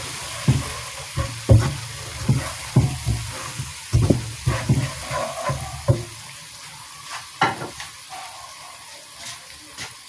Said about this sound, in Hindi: तो इसे भी 2 मिनट के लिए भून लेंगे।